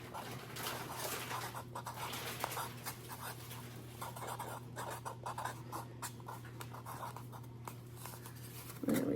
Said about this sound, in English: I'm just gonna write on the cup, Pomodoro Gigante Martini.